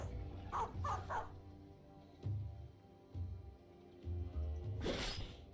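A war dog barks in the fantasy strategy game Battle Brothers, giving several short, quiet barks spaced a second or so apart over a low background.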